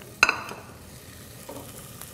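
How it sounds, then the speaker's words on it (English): Chili puree hits hot lard and fries with a sharp initial sizzle, then a softer steady crackle with occasional stirring scrapes while a coffee coloradita mole base cooks down. "I'm going to add the chili puree to this. It's going to cook pretty quickly here."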